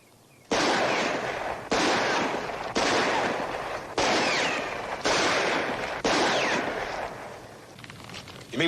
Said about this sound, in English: why don't you just take out your gun and shoot at something?